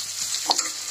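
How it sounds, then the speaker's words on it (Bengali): Potatoes fry in hot oil in a home kitchen, a continuous close sizzle with a couple of quick scraping stirs of the spatula in the middle of the short stretch. "আলুগুলো ভেজে নিতে হবে তেল দিয়ে।"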